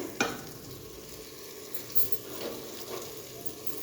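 Dry whole spices such as ajwain, chilies, cardamom and cloves roasting in a pan for a Punjabi chicken curry, a soft continuous sizzle with faint stirring scrapes and light ticks.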